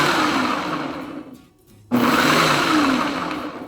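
An electric food chopper chops ingredients with a loud, steady motor whir. The whir drops off briefly, then surges back up at full strength.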